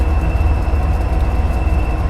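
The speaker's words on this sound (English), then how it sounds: "So things to note while operating this locomotive specifically is that it has dynamic brakes and that they are quite effective" A GP40-2 diesel locomotive from Train Simulator 2018 rumbles steadily with a deep, continuous engine drone and rolling noise, alone and fairly loud.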